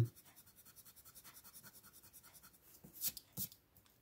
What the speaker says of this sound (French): c'est une gomme Faber-Castell. Je vais gommer un max.